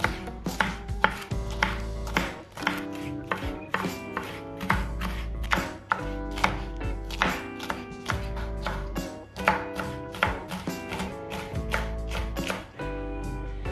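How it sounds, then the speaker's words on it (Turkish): Rapid, steady knife chopping of red peppers on a cutting board, sliced thinly, dozens of crisp close taps in a brisk rhythm with short pauses, no talking. "kapya biberlerimizi de yine ince ince doğruyoruz"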